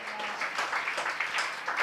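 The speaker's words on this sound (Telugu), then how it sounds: "కొట్టో మరి గట్టిగా చప్పట్లు" A church congregation claps loudly and continuously in a bright, irregular patter that fills the room, with no clear speech over it.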